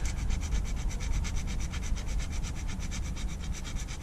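Edges of a briar pipe ring being flattened by hand in a workshop: a close, steady rasping rub repeated in quick even strokes, continuous for several seconds with no speech.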